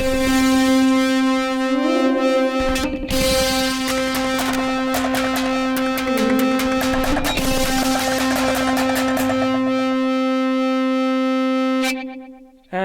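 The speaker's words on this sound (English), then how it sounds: "Or I can blend them so they both have delay and distortion" A contact mic runs through guitar pedals set to blend delay and distortion. A loud, sustained, buzzing tone with pitch bends is layered with a quick train of crunchy repeated taps, then fades out near the end. No voices.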